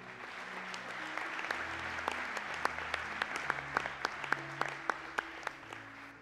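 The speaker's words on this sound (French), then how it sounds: "Acclame d'abord le Seigneur." A congregation applauding in church during a Sunday service, rhythmic clapping of a modest crowd held at a soft, even level with sharper claps standing out near the end.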